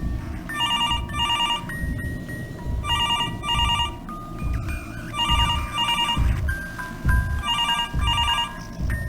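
Telephone in the game Mr. Hopp's Playhouse rings repeatedly in paired electronic trills, loud and close, over a low rumbling ambient drone.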